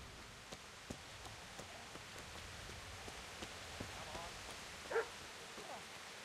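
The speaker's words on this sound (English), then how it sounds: "There's definitely a dog in that direction. I keep hearing it." A dog barks faintly and repeatedly in the distance in the medieval game Kingdom Come: Deliverance, its short yaps scattered over a soft, rain-like outdoor ambience.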